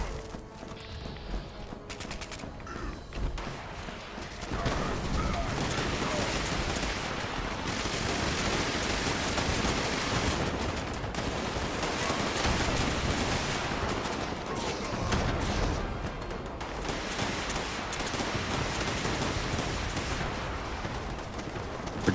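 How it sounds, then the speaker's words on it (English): A cremator weapon firing in Fallout 76, a long continuous roaring blast of fire-like noise that holds steady for many seconds with small surges, loud and close, after a short quieter lead-in. "That's a cremator weapon."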